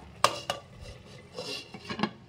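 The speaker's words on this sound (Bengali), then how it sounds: "ঢেকে দিচ্ছি একবার" A metal lid goes onto a cooking pot of ridge gourd and lentils, a few sharp metallic clinks and a brief scrape, quiet and close, with no voices.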